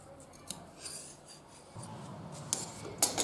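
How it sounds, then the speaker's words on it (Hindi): Scissors snip through cloth while a fabric shopping bag is trimmed, a few quiet, close, brief cuts and rustles spaced irregularly with no talking. "अब इसका भी जो एक्स्ट्रा है यहाँ से कट कर लीजिए"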